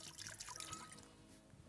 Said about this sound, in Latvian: Noliešu nost bišķiņi.